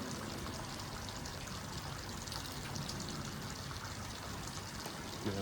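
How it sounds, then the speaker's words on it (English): Pond water is poured steadily to rinse small test vials, a continuous splashing trickle at close range that stays even throughout without talk. "Always remember to rinse these with your pond water."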